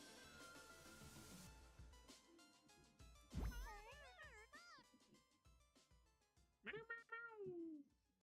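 A house cat meows twice, a short call near the middle and a longer, wavering meow toward the end, close by over faint background clatter.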